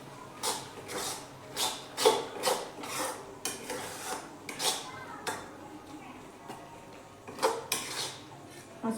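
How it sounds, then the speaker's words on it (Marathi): A spoon stirring raw mango jaggery pickle with cardamom in a metal pan, repeated close scraping and clinking strokes in an uneven rhythm, with faint room noise between. "आपण वेलची पूड बघा टाकून घेऊयात। आता मिक्स करून घेऊयात।"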